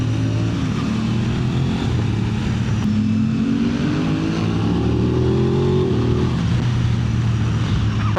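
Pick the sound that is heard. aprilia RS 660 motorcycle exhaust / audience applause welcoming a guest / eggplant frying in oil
aprilia RS 660 motorcycle exhaust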